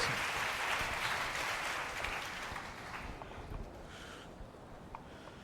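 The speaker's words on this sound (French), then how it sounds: "Clap your hand for the Lord." A church congregation claps hands during a bilingual French-English sermon, a dense wash of clapping that starts full and gradually thins and fades toward scattered claps.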